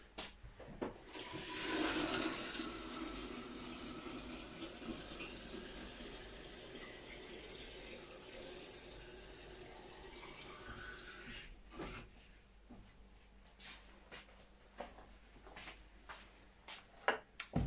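Tap water gushes into a container being filled for homemade elderflower champagne, a steady rushing flow that starts strongly, continues for about ten seconds, then cuts off, followed by faint knocks and handling noises.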